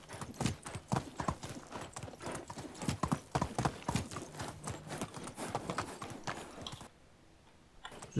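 Horse hooves clip-clop in the video game Medieval Dynasty, a brisk, close rhythm of hoofbeats that runs for several seconds before dropping out near the end.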